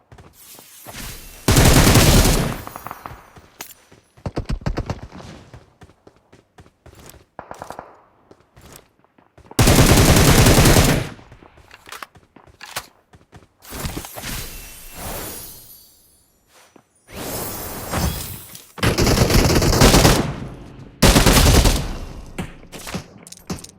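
Gunfire from a gun in the video game PUBG Mobile, repeated loud automatic bursts of a few seconds each, separated by short pauses and quieter single shots.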